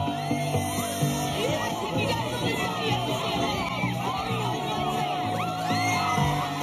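A large crowd outside the Universal Music Building in London sings along together to an acoustic guitar performance, a dense continuous wash of many voices with shouts and cheers rising through it at steady loudness.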